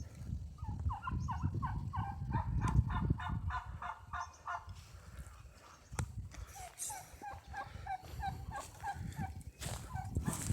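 Several turkeys gobble in repeated rapid bursts, close by, with rustling and low background noise between the calls.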